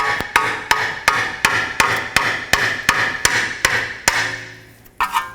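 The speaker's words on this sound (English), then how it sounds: "Now while I'm supporting the control arm, I'm going to tap it down with a hammer" Hammer taps on a lower control arm ball joint of a 2005-2010 Pontiac G6, about a dozen sharp metallic strikes in a steady rhythm, close and loud, with a short gap near the end before a final couple of hits.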